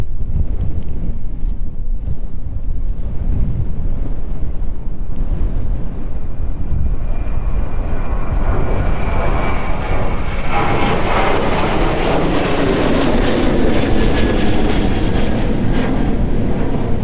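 Fixed-wing passenger airliner on its takeoff roll at East Midlands Airport, a loud, steady engine roar that builds and rises in pitch toward the end, mixed with heavy gusting wind buffeting the microphone.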